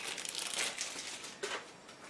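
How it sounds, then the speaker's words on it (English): Plastic wrapper crinkling as a board game card deck is opened, faint close-up crackling in a steady stream with a brief sharper rustle near the end, no talking. "And we have another deck of cards, which I will open."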